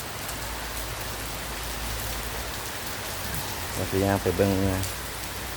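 Steady rain hisses continuously on surfaces, and a voice speaks briefly near the end over the downpour.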